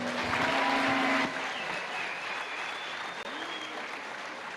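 A church congregation at a Bible seminar applauds loudly in a sustained, dense wash of clapping that eases slightly after the first second and continues to the end.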